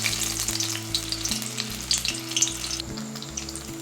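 Paneer pieces deep frying in hot oil, a steady bright sizzle and bubbling with light clinks of a utensil, close and continuous without voices.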